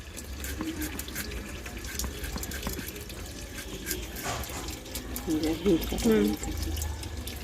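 Pieces of young jackfruit being rinsed in water, a close, continuous splashing and trickling with stirring and handling noises, while a voice talks over it.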